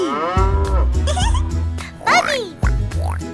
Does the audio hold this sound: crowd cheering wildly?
no